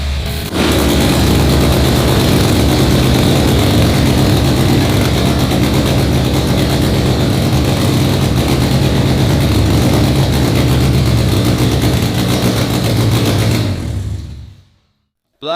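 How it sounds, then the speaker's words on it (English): A flooded 600 HP Honda Civic engine running too rich, loud and steady, rough and rumbling throughout, then cuts off abruptly near the end. "The engine is running way too rich. But anyway, it starts."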